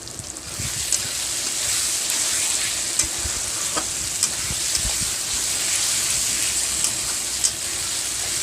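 Tomato and onion fry in a pan, giving a loud, continuous sizzle close up, with spoon scrapes and clicks from stirring throughout and no talking.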